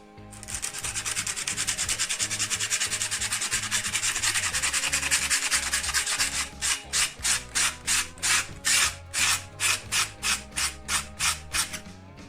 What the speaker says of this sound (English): Just lightly sand, not too much.